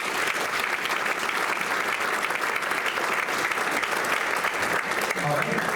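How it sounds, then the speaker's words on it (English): A big room full of people clapping steadily, a dense even wash of applause that holds throughout with a few faint voices underneath. "Can we give them each a big round of applause?"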